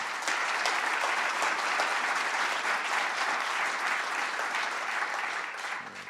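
Sustained audience applause after a speech, a dense steady clapping from a large crowd holding at full volume before tapering slightly at the end.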